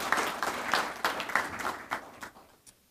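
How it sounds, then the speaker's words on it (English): Audience applause at a US Navy retirement ceremony for a Senior Chief Master-at-Arms, following a national anthem performance; a brief, faint patter of clapping from a crowd that swells in bursts and then tapers off. "Please give them all a round of applause."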